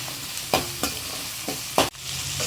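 Onions sauté in a pan for chicken chintamani, a steady sizzle broken by several sharp scrapes and clanks of a spoon stirring against the pan, the last one loud and abrupt.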